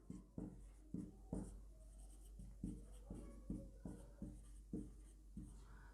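Chalk or pen writing on a board during a maths lesson, a run of short scratchy strokes in an uneven rhythm with small taps, close and fairly quiet, with no speech.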